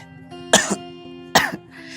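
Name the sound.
coughing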